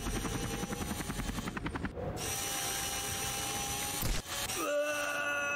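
A mini helicopter in The Henry Stickmin Collection game whirs with a rapid pulsing rotor chop, then shifts into a steady mechanical hum with electronic tones, a short cut and a rising whine, with no talk.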